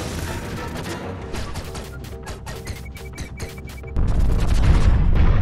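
Rapid bursts of gunfire from a pirate enemy in the video game Owlboy, sharp repeated shots over game music, then a louder booming rumble takes over near the end.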